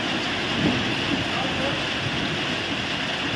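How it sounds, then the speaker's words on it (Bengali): Steady, dense rain hiss with no letup, heavy and close, with a faint voice or two buried beneath it, during heavy rain in Darjeeling. "দার্জিলিংয়ে প্রচণ্ড পরিমাণে জোরে বৃষ্টি হচ্ছে"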